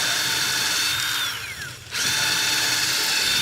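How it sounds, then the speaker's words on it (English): A power drill whines loudly and steadily while boring holes for mounting screws to install a dusk-to-dawn light, winding down in pitch and pausing briefly before spinning back up at full speed. "Now we can drill the bigger holes for the mounting screws."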